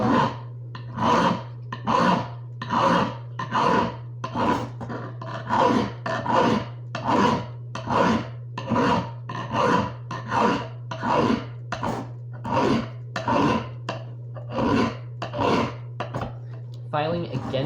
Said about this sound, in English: Filing against the blade will get you a better edge, but it is much harder.